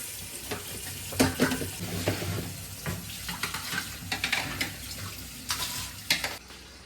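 A plate is rinsed under running water in a home kitchen sink, giving a steady splashing flow with clatters and scrapes of the dish throughout, fairly close and with no talk.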